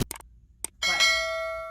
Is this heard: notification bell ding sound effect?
yes